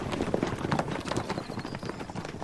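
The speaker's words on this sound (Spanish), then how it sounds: "Otra costumbre apasionante son estas carreras de caballos, en las que los jinetes montan a pelo" Horses gallop in a bareback race at a local festival in a Georgian valley, a dense, steady clatter of hooves on the ground with no clear break, moderately close and filling the whole stretch.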